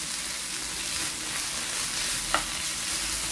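Kale with tomato sautés in a pan with a steady, even sizzle and occasional soft stirring, close and constant, with no talk.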